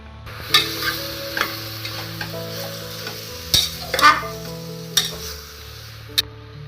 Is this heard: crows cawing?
no